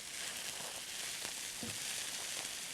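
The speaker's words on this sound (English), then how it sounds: "now we're going to stir that around just a little bit" Pepper and other ingredients sizzle steadily in a hot pan as they are stirred, with a constant bright frying hiss and a few soft scraping knocks from the utensil.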